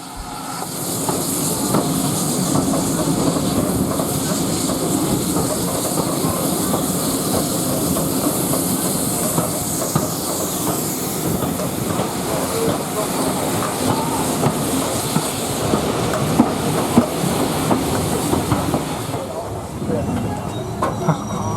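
A train rolls slowly into Bridgnorth Station on the Severn Valley heritage railway with a steady rumble, hiss and rhythmic wheel clatter, while people talk faintly over it.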